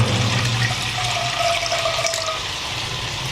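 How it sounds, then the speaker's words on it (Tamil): Water pours steadily into a cooking pot for oats, a continuous close splashing rush that runs the full length with no talk. "ஓட்ஸுக்கு தேவையான தண்ணி விட்டு விட்றேன்."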